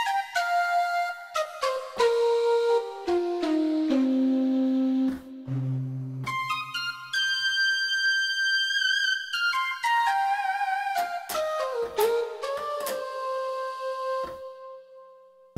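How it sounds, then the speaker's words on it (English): A Roland D-50 synthesizer plays its breathy shakuhachi preset as a solo melody of sustained and sliding flute-like notes, some ending in chiffy attacks, clear and close with no voices. "So that was the shakuhachi"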